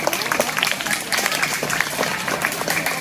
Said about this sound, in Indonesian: Tepuk tangan buat Alvaro.